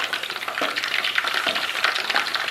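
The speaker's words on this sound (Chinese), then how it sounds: "肘子在锅里边噼啪作响，就跟过年放炮一样" Pork knuckles frying in a wok of hot oil, crackling and popping with dense, close sizzling bursts that swell and fade unevenly, no speech.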